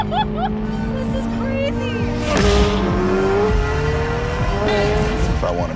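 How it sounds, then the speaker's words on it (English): A naturally aspirated V8 race car engine revs loud and close, rising and falling in pitch with sharp throttle blips and a brief tire squeal, while a voice talks over it. "If I want to make some real noise, this is what I'm going to be in right here. Fundamentally, a race car that you can drive on the road."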